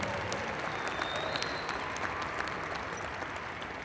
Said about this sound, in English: go ahead and give her another round of applause